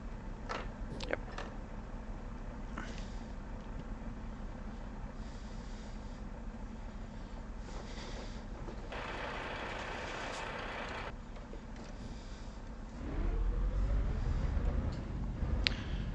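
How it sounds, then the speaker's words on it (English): Steady low Scania truck engine drone in Euro Truck Simulator 2, with a brief rising tone midway and a deeper, louder rumble near the end, no talking. "So as you hear, there is new audio of the truck."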